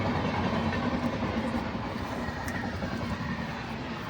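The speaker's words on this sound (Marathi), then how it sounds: "रेल्वे आली." A train rumbles past nearby, giving a loud, continuous roar with a faint clatter of wheels that holds steady throughout.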